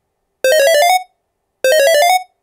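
Two bright, buzzy square-wave synth tones at 50% duty cycle from an ELZ_1 synth, each about half a second long with a slight rising wobble, separated by silence.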